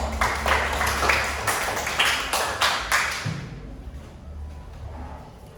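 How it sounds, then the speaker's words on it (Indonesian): Classroom applause in an Indonesian school lesson, a burst of many hands clapping together for a student, fairly close and loud, then fading out after about three seconds into quiet room tone. "tepuk tangan untuk Alvaro"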